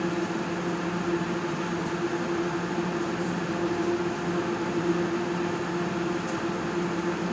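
Steady mechanical whir of a sewing machine stitching a katori blouse, running continuously at an even, moderately loud level with a constant hum throughout and no talking.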